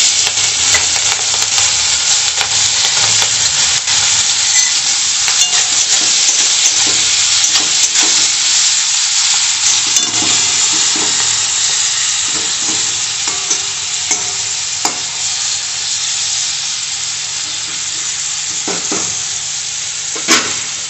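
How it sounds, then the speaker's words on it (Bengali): Prawns frying in hot oil in a wok, a loud, steady sizzle with crackling spits and occasional stirring scrapes, continuous and close throughout with no talking. "তেল গরম হয়ে গেছে, এবার আমি মাছগুলো দিয়ে দিচ্ছি।"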